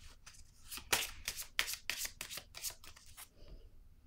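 A deck of tarot cards being shuffled by hand, a quick run of crisp riffling flutters over several seconds that ends in a soft settle, close and faint.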